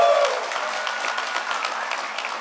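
A conference audience at a DEF CON hacking conference claps together, a dense sustained round of applause filling the clip, fairly loud and steady with a faint tonal trace at the start.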